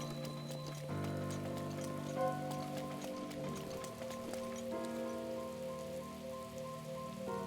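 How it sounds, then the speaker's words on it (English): Rain patters steadily on surfaces in Zelda: Breath of the Wild, a soft continuous hiss of drops beneath sustained game music tones, with no talking. "Oh yeah, it's raining."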